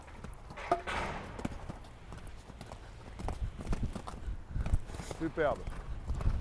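Horse hooves trot on the ground during show jumping practice, a clear rhythmic clip-clop at moderate distance, mixed with a coach's spoken instructions and brief remarks.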